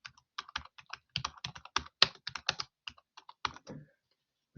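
Keys on a computer keyboard tapped in quick irregular bursts, typing a data set name, close and clear with short pauses between clusters of keystrokes and no talking.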